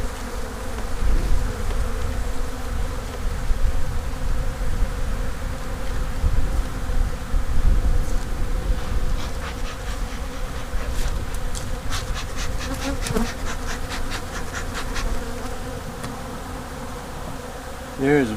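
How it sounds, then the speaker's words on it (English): Honey bees stream out of an opened hive during a January inspection, a dense steady buzzing swarm close by, with brief sharper wingbeats near the middle and no talking. "Ooh, look at the bees coming out."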